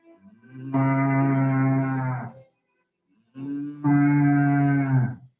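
A cow moos twice, long, deep and loud, each low drawn-out call lasting over a second with a brief pause between them and no other sound.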